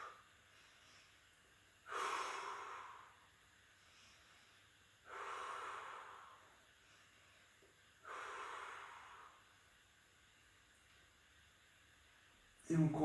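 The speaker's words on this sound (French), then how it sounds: "Inspire et tu souffles." During a gentle seniors' arm-circle exercise, a person breathes close to the mic in three strong, breathy exhalations spaced about three seconds apart, with quiet pauses between them.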